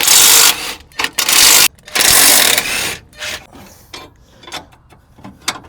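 A ratchet working on 19mm ball joint bolts of a Scion xB, with bursts of rapid clicking and whirring, loud and close, separated by short pauses and quieter ratcheting taps.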